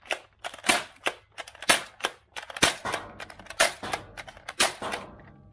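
A modified Nerf Disruptor dart blaster slam fires with the trigger held, a rapid series of sharp, loud snapping shots at an uneven rhythm, close up with no talk.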